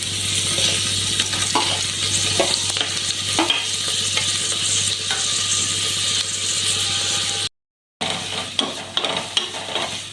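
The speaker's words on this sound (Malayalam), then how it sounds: "അതിൻ്റെ കൂടെ നമുക്ക് കനം കുറച്ച് രണ്ട് ചെറിയ സവാള അരിഞ്ഞത് ചേർത്ത് കൊടുക്കാം" A steady, close sizzle of thinly sliced onions frying in ghee with occasional stirring scrapes and light clinks, cut by a brief gap of silence near the end.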